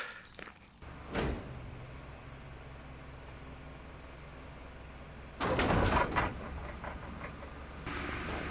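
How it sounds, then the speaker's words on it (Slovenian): The hydraulic door of a 2003 Pöttinger Europrofi loader wagon opens, with a brief clunk, then a hum and a loud rushing mechanical burst, followed by further movement noise. "Hidravlično odpiranje vrat."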